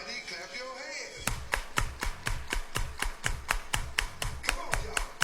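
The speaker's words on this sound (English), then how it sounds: "Everybody clap your hands." Rhythmic unison clapping from a crowd at a high school baseball game, James Clemens vs. Austin. After a moment of background noise, about a dozen sharp, evenly spaced claps follow at a steady beat, with crowd voices underneath.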